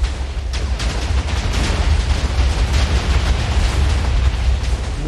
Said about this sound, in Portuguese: bora ver se essa armadura aguenta essa explosão inteira